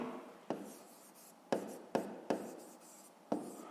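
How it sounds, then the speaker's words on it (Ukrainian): Sharp, distinct taps of chalk or a pen writing math on a board, about five strokes in an irregular rhythm, close and quiet with faint rubbing between them and no talk. "Давайте так і запишемо."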